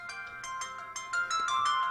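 An electronic phone ringtone plays a repeating melodic pattern of bright pulsed tones, steady and fairly close, with no voices over it.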